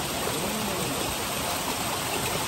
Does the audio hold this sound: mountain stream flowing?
yes